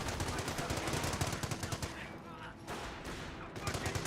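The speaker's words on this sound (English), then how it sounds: "30 cal setting on up, firing away, hitting the infantry half track now" A .30 cal machine gun in Company of Heroes rattles off rapid sustained bursts against an infantry half-track, loud and continuous with a brief pause, under game battle noise and a voice.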